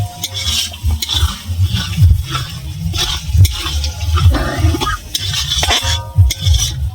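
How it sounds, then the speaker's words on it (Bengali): Spices and chicken for biryani are stir-fried in a pan, with a spatula scraping and stirring in repeated strokes, clinking against the metal over a low sizzle, close and loud. "এবার আমি ভালো করে ফের কষিয়ে নেব।"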